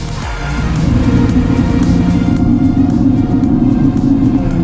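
A Kia EV6 GT electric car accelerates hard on a wet road while its synthetic engine sound plays, a loud, steady, close rumbling drone that swells and holds throughout.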